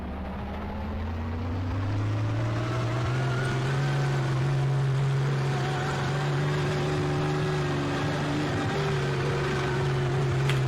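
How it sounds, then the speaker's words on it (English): PT-boat engine in Garry's Mod running as a steady low drone with a rising harmonic tone, loud and continuous throughout, a slight unevenness in the hum but no distinct stutters; no talking. "the engine's like, you can hear it stuttering basically"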